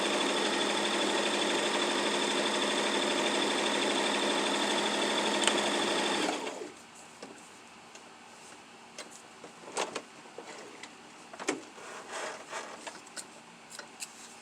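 A sewing machine runs a steady, close continuous stitch along the last side of a drawstring face mask for about six seconds, then stops, leaving faint handling sounds and small rustles.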